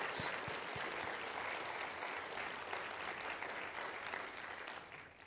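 A large audience at a university state-of-the-university address in Northeast Louisiana claps steadily in a dense, continuous roar of applause that holds level before easing off at the very end.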